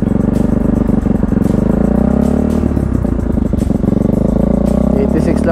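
A Bajaj Rouser NS160 motorcycle fitted with an Akrapovic exhaust revs up close and loud, a rough pulsing engine note rising and falling, while someone talks over it.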